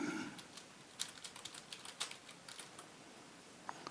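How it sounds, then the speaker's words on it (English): Quiet, close keyboard typing: a quick run of soft key clicks in an uneven rhythm, with no voices. "Just click someplace and start typing."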